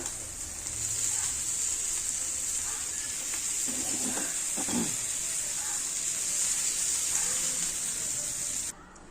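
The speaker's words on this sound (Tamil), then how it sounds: "இப்போ மீன் வந்து நல்லா வறுத்து எடுத்தாச்சு" Sardines frying in oil in a pan, a steady close hiss of sizzling with a few soft scrapes midway, cutting off abruptly at the end.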